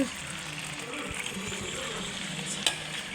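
Paneer curry bubbles and simmers in a pan, a soft, continuous sizzle with wet popping and a brief stir or clink near the end, at moderate volume.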